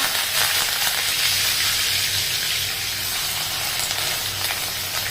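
Cumin seeds and curry leaves sizzle in hot oil for a dry yellow potato sabzi, a steady close, loud broadband hiss and crackle running continuously with no talk.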